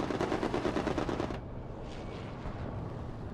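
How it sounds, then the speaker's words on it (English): Rapid machine-gun fire from an aircraft strafing run in a World War II video game rattles loudly in a dense burst, then cuts off abruptly, leaving a lower rumbling background. "So we've got a strafing run come in."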